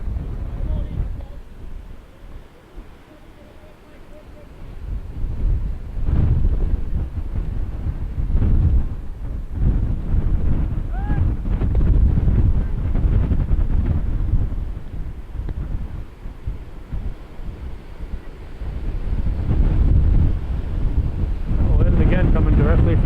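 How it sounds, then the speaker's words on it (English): Wind gusting across an open baseball field sets off a steady low rumble of microphone buffeting, swelling and easing throughout, with faint distant voices underneath. "Wind again coming directly from behind me here"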